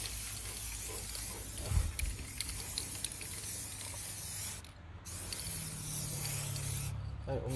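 Spray paint hissing onto a damaged alloy wheel during a refurbishment, a steady close broadband spray running almost continuously with two short pauses between bursts.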